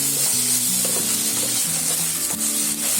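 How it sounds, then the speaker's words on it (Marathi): Ginger garlic paste fries with onions in a pan, a dense continuous sizzle and occasional stirring, while steady tonal music plays underneath. "ती पण कांद्याबरोबर अशी चांगली फ्राय करून घ्यायची."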